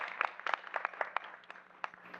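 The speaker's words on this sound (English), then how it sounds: "the Las Vegas dance team another round of applause." Sparse, faint clapping from a small audience at a school board meeting honoring the Las Vegas dance team, a thin scatter of handclaps fading out within a couple of seconds.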